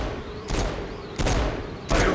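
Pistol shots fired in the video game Saints Row: Gat out of Hell, three sharp, loud bursts spaced about every 0.7 seconds over a steady background rumble.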